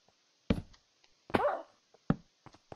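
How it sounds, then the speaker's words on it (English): A dog in a video game gives short yelps and a drawn-out whimper after being hurt, three separate close cries spaced apart with quiet in between. "Oh, my doggy got hurt."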